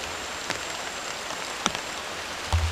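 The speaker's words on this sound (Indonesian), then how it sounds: "Ini hujannya makin rapat ya, ngeri teman-teman." Rain falls steadily at night during a camping trip, a dense, even hiss with a few sharper drops and knocks standing out close by.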